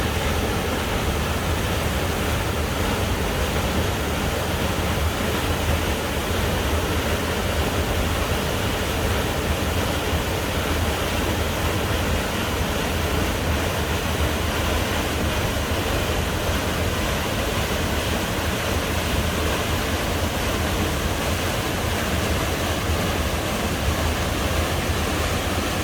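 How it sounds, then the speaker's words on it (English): Hell's Gate waterfall in St. Vincent roars as a steady, dense wash of falling water, loud and unchanging throughout with no voices. "Look at that beautiful waterfall."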